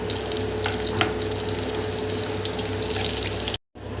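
Onions frying in oil in a pan for chilli chicken, a dense, steady loud sizzle with a couple of light knocks, briefly cutting to silence near the end.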